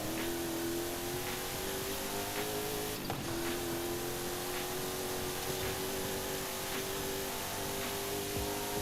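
An AMG Mercedes race car in the Forza Horizon 5 video game, its engine holding a steady, sustained drone with faint shifts in pitch, loud and continuous with no talking over it.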